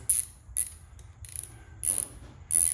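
A ratchet wrench backing out the main ground bolt of the wiring harness on a BMW R 1200 GS motorcycle, clicking in quick close bursts of pawl ticks with short pauses between strokes.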